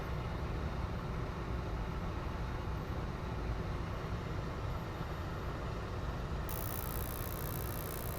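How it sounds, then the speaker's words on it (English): A furnace draft inducer motor runs steadily, producing a constant dense whooshing hum with no breaks, fairly close and unaccompanied by talk. "Draft motor's going."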